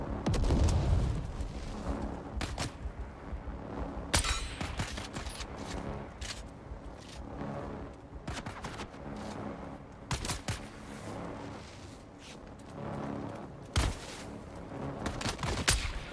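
Gunfire in the Dune: Awakening video game, with repeated sharp shots and bursts scattered across a dense, rumbling battle backdrop, some close and loud, others lighter, with no talking.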